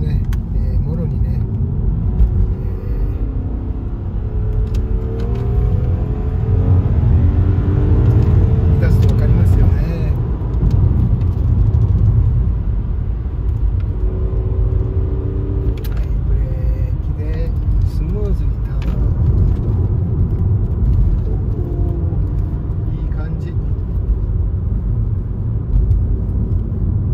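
A Subaru Outback with a six-cylinder engine drives hard up a winding mountain road, its engine and road rumble steady and prominent throughout, with someone talking over it.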